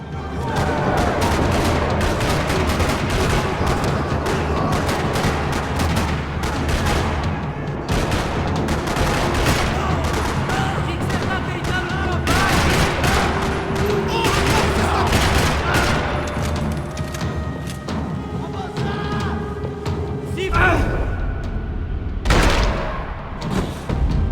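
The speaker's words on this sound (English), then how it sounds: "Another parking lot rattling with gunfire." Sustained gunfire in a parking lot in the Max Payne 3 video game: dense, overlapping bursts of shots and sharp cracks that keep rattling continuously for over twenty seconds, loud and close.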